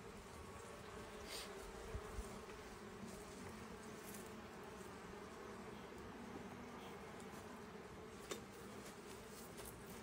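Honeybees working drawn comb in a beehive while a deep box is being added, a steady close buzzing drone that holds throughout, with a few brief louder passes near the microphone.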